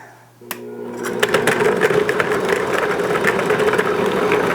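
Electric stand mixer creaming cold butter for pound cake, starting with a click and then a steady motor whir with rhythmic beater rattle, close and continuous.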